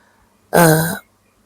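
A single harsh throat clearing, close and fairly loud, lasting about half a second with a gravelly, cough-like rasp, then quiet.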